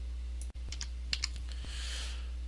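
Keys on a computer keyboard clack in a quick, uneven run of light taps, close and fairly quiet, with one sharper click near the start and no talking.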